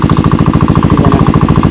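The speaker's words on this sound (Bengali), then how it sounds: "মেশিন চলতে থাকবো, জল আস্তে আস্তে কমতে থাকবো" A village water pump engine drains a pond, thumping in a fast, even, unbroken rhythm close by, loud and steady with a knocking mechanical pulse.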